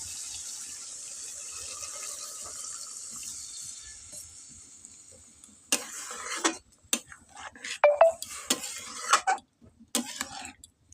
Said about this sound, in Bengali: এখন আমি এতে পরিমাণ মতন জল দিয়ে দেবো।